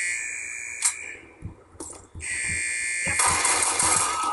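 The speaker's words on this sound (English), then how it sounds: "Shut the damn alarm off!" Repeating electronic alarm tone blaring through a Call of Duty game firefight, a steady high beeping that holds loud while short gunshot-like thumps punch in underneath.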